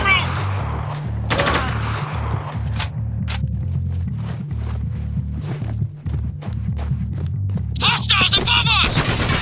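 Heavy gunfire from the video game Spec Ops: The Line crackles in repeated sharp bursts over a low rumbling score, with shouted squad callouts and clattering movement around the shots.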